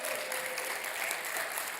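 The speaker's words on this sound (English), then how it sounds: "or not high five, but a round of applause" Church congregation claps in a steady round of applause, dense and continuous with a faint tone underneath.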